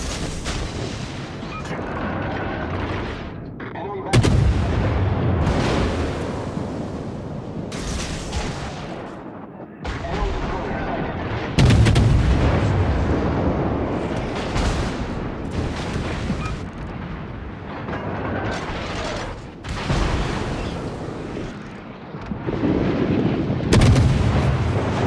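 Heavy naval cannon fire from a cruiser in the World of Warships video game: repeated loud booming salvos with rumbling tails, recurring every few seconds over a continuous dense battle roar.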